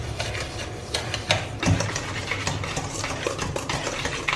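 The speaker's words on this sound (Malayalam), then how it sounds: "ഇതെല്ലാം കൂടെ ഈ ഹാൻഡ് വിസ്ക് കൊണ്ട് നന്നായിട്ടൊന്ന് മിക്സ് ചെയ്തെടുക്കുക." Hand whisk stirring vanilla cake batter with vanilla essence in a bowl, a steady scraping, clinking rhythm close by with a few sharper knocks against the bowl.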